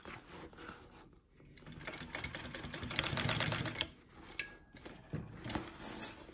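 A sewing machine runs a short basting stitch along a handbag, a quiet steady mechanical whir and rapid needle clatter that rises in the middle and tapers off with a few faint clicks near the end.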